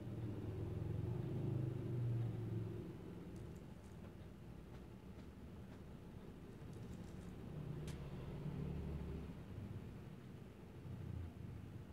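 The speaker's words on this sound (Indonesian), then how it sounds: "Ini suara mobil." Car engine in the mobile battle royale game Rules of Survival, a steady low rumble that swells and eases throughout, with a few faint clicks over it and no talk.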